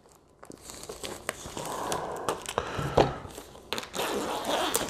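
Original plastic shrink wrap being peeled by hand off a 1997 XCar: Experimental Racing game box, giving close, irregular crinkling and tearing rustles that grow busier toward the end.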